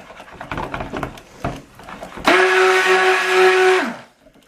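Stick blender whirring in thickening soap batter for a bourbon and cola soap, a loud steady motor buzz lasting under two seconds that follows a few knocks and scrapes of handling, then stops.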